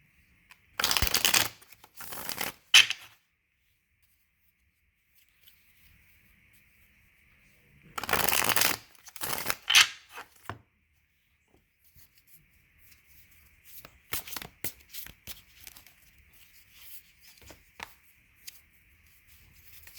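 Large tarot cards being shuffled in two loud bursts of riffling and flapping, then softer, scattered card handling and light taps with a faint steady hum behind.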